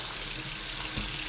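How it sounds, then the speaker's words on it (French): Water runs steadily from a tap, switched between cold and hot, after a boiler has been descaled; a constant broadband hiss of flow through a cleaned aerator, fairly close, with no talk over it. "je bascule le robinet sur l'eau chaude"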